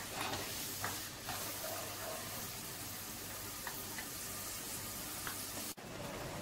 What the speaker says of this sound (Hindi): अब इसमें हम डालेंगे टमाटर प्यूरी जो कि 2 कप के बराबर है। इसे अच्छे तरीके से भूनेंगे।